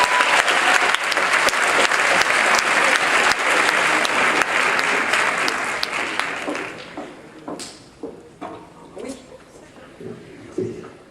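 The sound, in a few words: audience applause at a graduation ceremony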